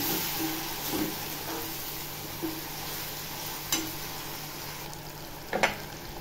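Chana dal sautés in a spiced masala in a pan, a soft, steady sizzle under a low hum, with a few spoon knocks and scrapes at scattered moments.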